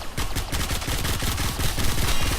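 Rapid gunfire from the Supra Vandal in the video game Warframe, a dense unbroken stream of fast shots rattling at a steady rhythm without pause.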